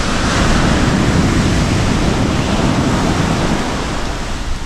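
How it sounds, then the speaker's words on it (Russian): Strong ocean waves roll onto a quiet, empty beach in Thailand, a loud, unbroken wash of surf noise that holds steady with no other sound on top. "Волны посильнее, такие красивые."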